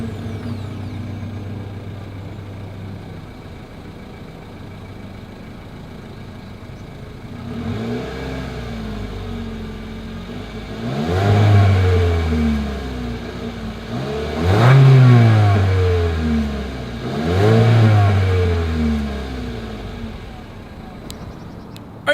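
Exhaust of a 2022 Mitsubishi Eclipse Cross idles low and steady, then rises in three distinct revs, each swelling to a throaty peak and falling back toward idle, recorded close to the tailpipe.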